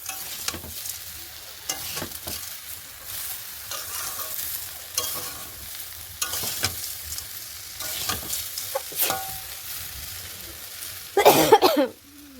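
Elephant apple pieces and sugar being stirred in a pan over a low flame, giving soft scraping strokes with a gentle sizzle, and a louder clattering burst near the end.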